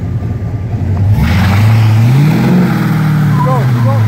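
A Trans Am's engine revs up loudly with the brake and gas held together, the pitch climbing and holding in a strained whine, with someone talking over it.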